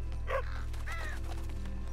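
A single dog barks a couple of times at moderate distance in Red Dead Redemption 2, over a low ambient hum with no talking.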